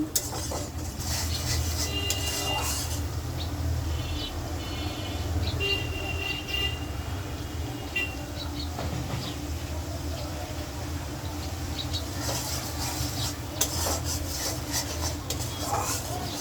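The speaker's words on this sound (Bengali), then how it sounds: "এখন মশলাটা একটু কষায় নিব" Spice paste (masala) fries and is stirred in a pan for a vegetarian dish, with a continuous low sizzle and scattered clinks of the spoon on metal while a person talks.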